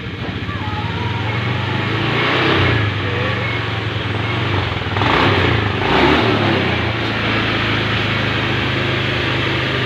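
A fuel-injected motorcycle engine being run with injector cleaner, a loud close steady idle with a low hum that rises in two revving swells before settling back, no voices.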